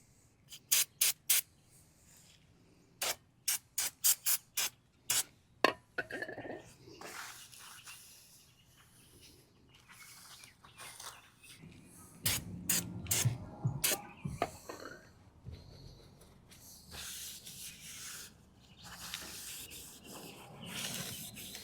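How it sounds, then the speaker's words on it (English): Brake parts cleaner hisses from an aerosol can onto a brake rotor during a Toyota 4Runner 5th gen brake upgrade, a series of short sharp spray bursts followed by a longer wiping spray, with a person talking in between. "we just need to put some brake parts cleaner on it to get any of that off."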